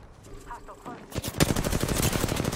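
Rapid automatic gunfire in the video game Apex Legends erupts after a quieter opening with faint game sounds, a loud sustained burst of close shots with dense repeated cracks running to the end.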